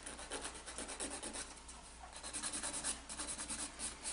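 An acrylic nail being filed, a soft, rapid back-and-forth rasping that is faint and close, with no voices.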